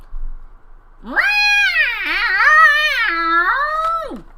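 A person's voice imitates a cat's caterwaul: one long, drawn-out wailing yowl that rises, wavers, and falls, loud and close.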